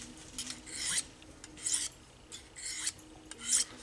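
Knife blade drawn in light strokes across a diamond sharpening stone, four distinct raspy passes spaced about a second apart, close and fairly quiet with no talk.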